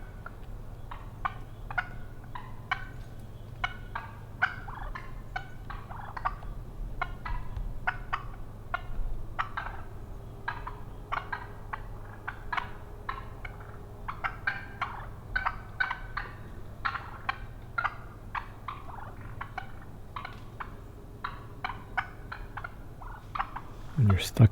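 Nervous clucking from roosted wild turkeys near a deer-hunting tree stand in Southern Ontario, dozens of quick, irregular clucks and putts at mid distance, fairly faint against a quiet forest background, with a sharp bump at the end.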